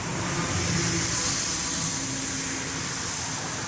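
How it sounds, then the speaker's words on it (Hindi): A continuous roar of passing vehicles nearby on the Mumbai to Lonavala road, steady and fairly loud road noise with no voices. "यार ये गाड़ियों की आवाज़ में मुझे बोलने नहीं मिल रहा है।"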